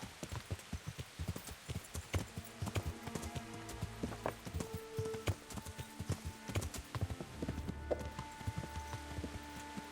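A horse's hooves clip-clop at a steady walking pace in the video game Kingdom Come Deliverance, close and rhythmic, over a low droning background with occasional tonal notes.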